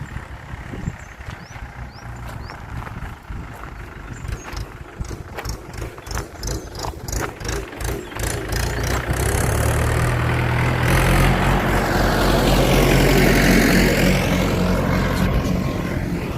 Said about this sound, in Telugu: ఏదో ట్రాక్టర్ ఏదో వస్తుంది.